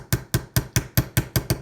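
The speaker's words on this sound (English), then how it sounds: "So just hammer the bearing all the way down to the bottom here." Bearing being hammered into the differential of an ARRMA Granite 3S BLX RC car: eight sharp metallic taps in a steady, even rhythm, close and distinct, with no talk.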